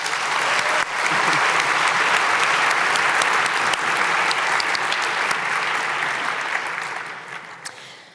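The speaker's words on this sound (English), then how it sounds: "I think they both deserve a round of applause." Audience applauding at a wine debate evening, a sudden burst of dense clapping that swells to a full roar, holds steady, then tapers off into scattered claps at the end.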